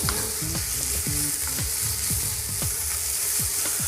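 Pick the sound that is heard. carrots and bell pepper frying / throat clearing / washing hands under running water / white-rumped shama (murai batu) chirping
carrots and bell pepper frying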